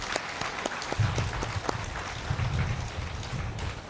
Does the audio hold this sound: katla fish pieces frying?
no